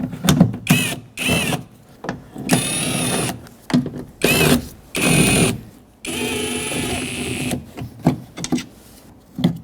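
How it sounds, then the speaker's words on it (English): A ratchet fitted with a 10mm socket backs out the speaker mounting bolts inside the door of a 2006–2010 Hyundai Sonata, producing bursts of rapid clicking separated by short pauses, close to the microphone. "Use a 10mm socket to remove the 4 mounting bolts from the speaker."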